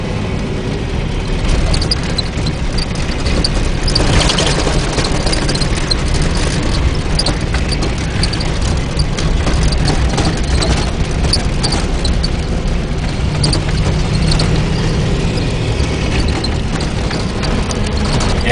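A Scout 4x4 running in four-wheel drive at about 25 mph on a dirt track, with a steady, loud engine and driveline drone, rattling and road noise, continuous throughout and no voices.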